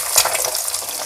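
An egg fries in hot oil with salty soy sauce, giving a loud, steady crackling sizzle close up with no talking.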